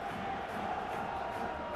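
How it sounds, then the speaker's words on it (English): A virtual stadium crowd in the football video game PES 2021 roars and cheers steadily at a La Liga match between Sevilla and Levante, a dense continuous wash of distant voices. "Crowd appreciates good football all round there"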